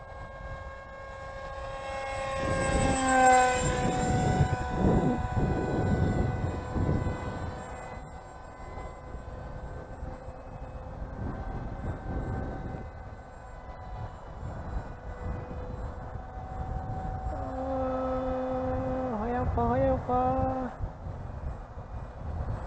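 A Eurofighter model aircraft flies overhead, its propeller-driven engine giving a droning, slightly off-sounding whine with a rough prop slot. The pitch rises and falls as it passes near and then farther away, steady under open-air background noise.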